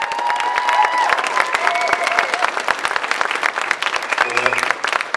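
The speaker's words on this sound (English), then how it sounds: "Let's give them a big round of applause." An audience claps and applauds for the graduating class of 2016 at the Valemount Secondary School graduation ceremony, with steady, dense clapping throughout and some voices and cheering mixed in.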